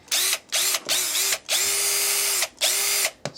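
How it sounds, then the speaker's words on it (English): Cordless drill powered by a Black + Decker 20V MAX battery, revved in five or six bursts of varying length with brief pauses between, a steady whirring motor pitch, loud and close, no talking. "I got another drill here."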